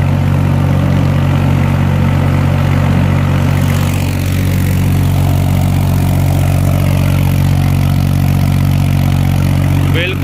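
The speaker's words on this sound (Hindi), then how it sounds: "बेहतरीन तरीके से रवा है इसका इंजन।" A tractor's diesel engine runs steadily with a smooth, even, low drone that stays loud and constant throughout, with no change in pace.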